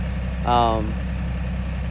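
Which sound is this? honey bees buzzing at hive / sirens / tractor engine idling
tractor engine idling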